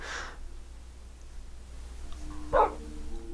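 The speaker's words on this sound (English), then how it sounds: "I was sitting there for quite a while waiting for Wolfie to bark" A Minecraft wolf gives a single short bark, mid-distance, against a quiet low hum, with a faint brief sound at the very start.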